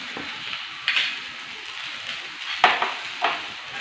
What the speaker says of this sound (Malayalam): ഇത് നന്നായിട്ടൊന്ന് ഇളക്കി ചേർക്കാം